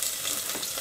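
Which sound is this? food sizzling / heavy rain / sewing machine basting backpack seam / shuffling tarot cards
food sizzling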